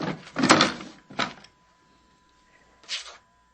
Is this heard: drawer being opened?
yes